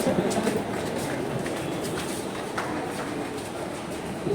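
An underground metro train in Kolkata rumbles steadily at a station, a continuous low roar with faint clicks and rattles along its length and a few brief higher squeaks.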